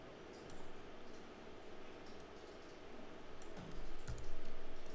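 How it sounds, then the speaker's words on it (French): The X key on a computer keyboard is pressed in a quiet room, giving a few soft, faint clicks against low background hum. "j'ai enfoncé la touche X"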